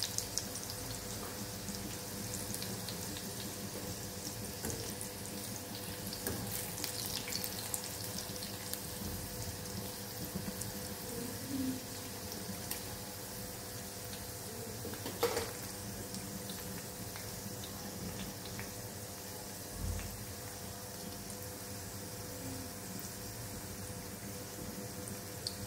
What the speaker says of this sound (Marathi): अशा पद्धतीने ही भेंडी तळली ना तर ती छान कुरकुरीत होते